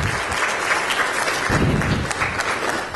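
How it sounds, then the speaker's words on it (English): Lecture audience applauding a speaker at a talk on the role of the mosque in society: steady, dense clapping from a crowd at close range, continuous for the whole stretch with no voices over it. "If we can just get another round of applause for our speaker here today."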